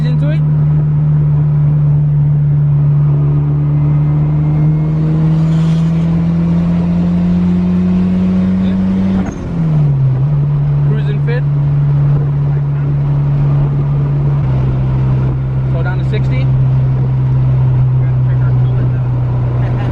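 A turbocharged Honda Civic Type R EG pulls in fourth gear on a freeway, its engine drone loud and steady, dipping at a shift then settling again, with people talking over it inside the cabin.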